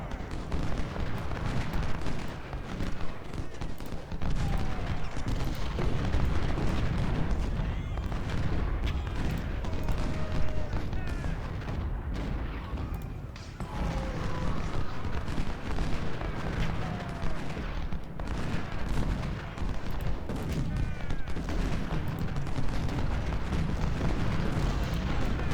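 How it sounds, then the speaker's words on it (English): Deep booms of artillery fire roll across a Civil War battlefield in Ultimate General: Civil War, layered with distant musket crackle in a dense, continuous rumble that stays loud throughout. "but also from my artillery fire"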